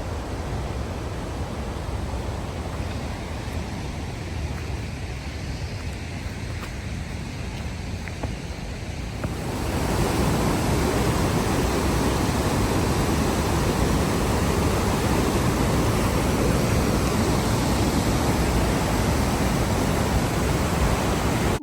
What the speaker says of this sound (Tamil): அந்த ஃபால்ஸோட சத்தத்தை கேட்டுக்கிட்டே நடந்து போனோம்.